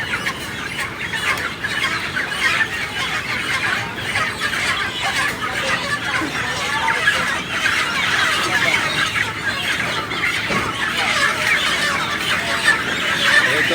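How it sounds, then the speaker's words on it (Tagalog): Many 45-day-old chickens clucking and squawking together on a truck in a constant noisy chorus, close by, with occasional sharper squeals over a background rumble. "nakabuntot pa isa oh, may lamang manok din yun"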